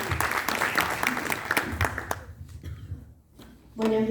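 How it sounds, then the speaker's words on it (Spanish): An audience claps to welcome two speakers onto a stage, a dense burst of applause that thins out and fades after about two seconds, followed by a brief quiet and the start of a voice. "Con un fuerte aplauso los recibimos."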